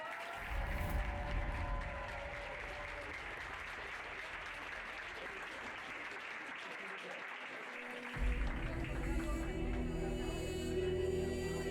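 A crowd applauds at a pony games prize ceremony, with sustained clapping that carries through the whole stretch, fairly distant and indoors-sounding, and a low hum and faint voices joining near the end.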